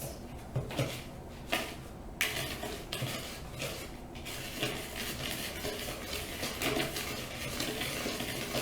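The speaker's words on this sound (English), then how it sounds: "Now it says to whisk them together and make sure that we don't have any clumps." Dry bath bomb ingredients are whisked together in a bowl, producing rhythmic close scraping and clinking strokes, steady and fairly quiet, with no talking.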